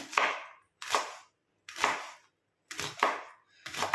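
A dried ridge gourd being cut whole, five sharp crunching chops with brief pauses, close and loud with nothing else heard.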